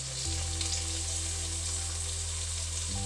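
Squid sukka frying with curry leaves and tomato in a hot pan, a dense, steady sizzle that stays loud and close throughout, with a low hum underneath.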